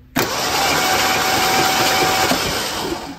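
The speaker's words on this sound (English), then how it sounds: "With the starter now connected, let's see if the engine turns over." A 1976 Ford Bronco Sport engine, parked for 30 years, cranking over on its starter: a sudden loud whirring turnover that starts abruptly and runs steadily for about three seconds, close up and alone.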